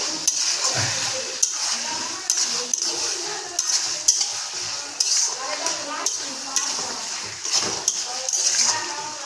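Steady frying sizzle with repeated scraping strokes of a spoon stirring mutton in a kadai, close and continuous, with faint talking underneath.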